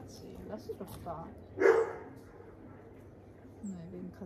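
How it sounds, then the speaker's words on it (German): Dogs barking, a single short bark that stands out briefly above nearby people speaking in German, with fainter yips and noises around it. "Nein, wegen Katzi bellen die bestimmt nicht"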